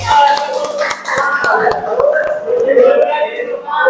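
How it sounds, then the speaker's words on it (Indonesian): A classroom of students claps for a classmate, scattered uneven hand claps mixed with chatter and voices in the room. "Tepuk tangan buat Udin."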